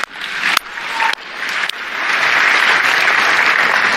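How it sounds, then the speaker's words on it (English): A live audience at a Microsoft AI event breaks into applause. It starts as a few separated bursts, then swells into steady, loud clapping from the whole crowd, with no talk over it. "Yeah, you can clap."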